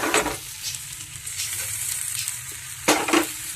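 Garlic and onion stalks fry in a pan with a constant crackling sizzle, loud scraping stirs bursting in at the start and again near the end, and no voices.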